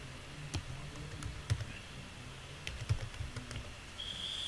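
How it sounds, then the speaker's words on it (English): Someone types on a computer keyboard in short, irregular bursts of faint, crisp key clicks, close and quiet, with a brief tone near the end. "I'm going to type the name like"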